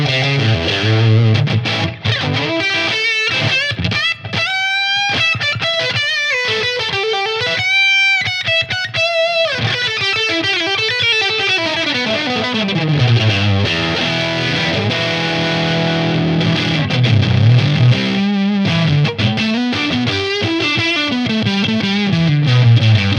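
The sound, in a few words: electric guitar through Tonex Suhr Plexi amp model, humbucker pickups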